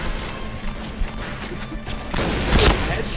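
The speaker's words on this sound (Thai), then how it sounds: "เสียง APC 9มันแบบเวลาโดนยิงอะเหมือนแบบว่าโดนยิงจากไกลๆอะ" Distant bursts of APC-9 gunfire in Rainbow Six Siege, rapid muffled shots rattling through a busy game mix with a louder crash of impact near the end.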